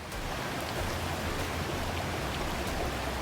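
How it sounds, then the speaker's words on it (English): Steady rushing of a shallow stream at an Appalachian Trail crossing, a continuous close, even wash of flowing water with no voices. "we're at a stream crossing to get some water"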